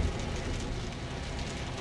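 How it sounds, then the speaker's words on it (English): Rain keeps falling outdoors, a dense, even hiss of drops hitting surfaces, steady and moderately faint with no talk. "It hasn't stopped raining yet."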